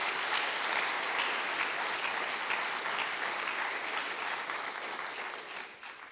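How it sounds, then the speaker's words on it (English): A closing ceremony audience gives sustained applause for event sponsors, a dense steady clapping from a large crowd that tapers slightly toward the end. "So please give them a warm round of applause."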